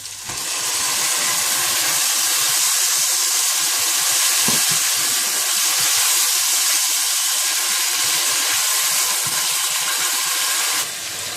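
Tomatoes and spices fry in a pan after garlic paste, giving a loud, steady hiss and sizzle that runs unbroken and close for the whole stretch.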